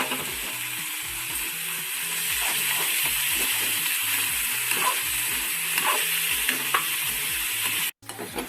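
Raw plantain tossed with salt in a hot pan gives a steady, close hiss of sizzling, mixed with soft scraping stirs. It cuts off briefly near the end.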